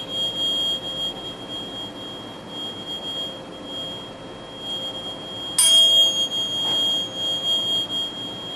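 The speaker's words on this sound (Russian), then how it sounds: "This one is vibrating at 528 cycles a second." High-pitched steady tone vibrating at 528 cycles per second, a continuous pure hum holding level throughout, with a brief louder burst of noise near the end and no talking.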